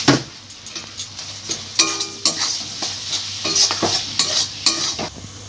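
Spices sizzle in a pan with Kashmiri chilli powder and a little sugar while being worked for a prawn curry, rhythmic spatula scrapes and taps riding over a continuous close hiss.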